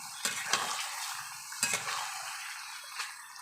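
Meat frying in a pan during kosha cooking, a steady close sizzle with a few stirring scrapes and clinks of the spoon against the pan.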